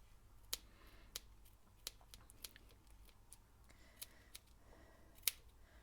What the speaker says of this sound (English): I'm going to take my small scissors and we're going to start cutting through all the loops